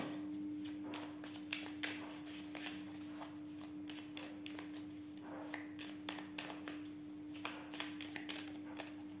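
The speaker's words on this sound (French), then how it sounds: "Et on va tirer une dernière carte" Tarot cards handled and shuffled from a deck for a final draw, making quick papery flicks and soft taps in irregular bursts over a faint steady hum, close and quiet.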